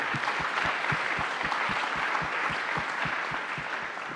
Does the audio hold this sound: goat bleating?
no